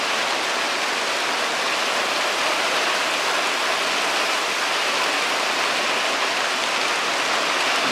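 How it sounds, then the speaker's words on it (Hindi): Rain falls steadily outdoors in the mountains of Jibhi in Himachal's Tirthan Valley, a dense, even hiss that stays constant throughout with no voices or other sounds. "और देखो पीछे हो चुकी है बारिश शुरू, अल्टीमेट वेदर हो गया है।"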